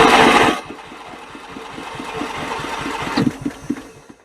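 A Kohler 12.5 HP engine on a John Deere STX38 lawn tractor cranks in a steady rapid chug, opening with a loud burst, then a brief firing pop stands out among the rhythmic turnover strokes.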